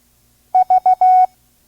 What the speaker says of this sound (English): Here is our next Morse code letter. V, Victor.